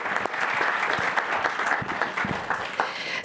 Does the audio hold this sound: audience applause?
yes